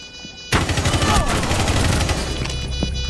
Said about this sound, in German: So, jetzt kommt der Schuss.